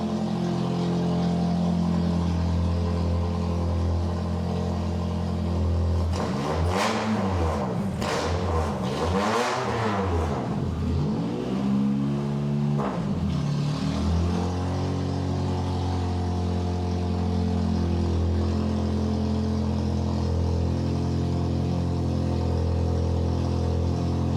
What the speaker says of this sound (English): I'll give it a little rev. Keep your ears covered, okay?